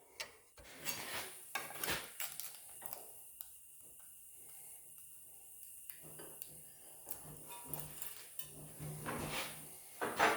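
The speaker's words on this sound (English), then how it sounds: "I'm going to hammer this edge now, so this steps back" Sparse metallic taps and clanks come from hammering the bottom edge of a metal door, with irregular close strikes separated by quieter pauses.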